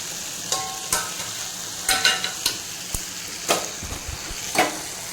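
A lunch curry stirred in a pan after the lid comes off, with a soft sizzle underneath and several sharp scrapes and clinks of the spoon against the metal at irregular intervals, close by.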